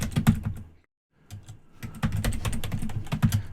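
Rapid, close clatter of computer keyboard keys typing a sudo apt install command, a quick burst, a short silent pause, then a longer steady run of keystrokes.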